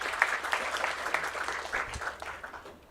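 Moderate, somewhat distant applause from an audience at a Chieta pilot project event, a loose, uneven patter of clapping that slowly thins out toward the end.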